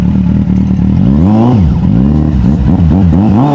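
A Kawasaki Z800 motorcycle revs hard close by, its engine note climbing and dropping through several quick gear-like sweeps as it accelerates loudly.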